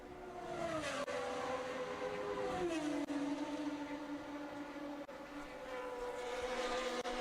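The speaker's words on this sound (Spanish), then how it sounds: "Y este era Prost, que continuaba su remontada" Formula 1 race car engines at the 1982 South African Grand Prix give a continuous loud, high-pitched whine that shifts in pitch as the cars pass, heard at close range with no talking.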